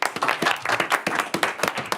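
Brisk hand clapping from a small group in a TV show writers' room as Tracy Jordan arrives, a close, dry round of applause with individual claps distinct and steady throughout.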